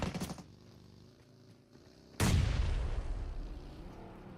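Grenade blasts in PUBG Mobile during an esports match: a single sharp, loud boom cuts in midway and leaves a long rumbling decay, after faint earlier gunfire-like pops.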